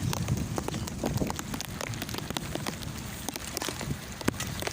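Heavy rain pours steadily outdoors with gusting wind, a dense, continuous wash of drumming and spattering drops close by, with sharp taps from drops striking nearby surfaces and no voices.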